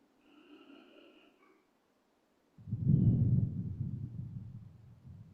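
A soft, breathy exhale or murmur is followed by a pause, then a louder close-up rush of breath, like someone breathing right into a microphone.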